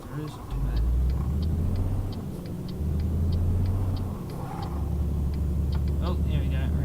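A truck in the Euro Truck Simulator 2 multiplayer game, its engine rumbling low and steady with gear-change surges while voices talk over it.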